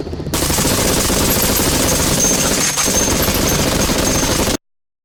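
Sustained, loud automatic gunfire with rapid bursts that continue almost without a gap for several seconds, then cut off abruptly into silence.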